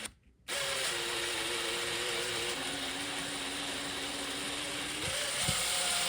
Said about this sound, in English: you want to drill on in and then back it out, and then all that PVC residue should just come right out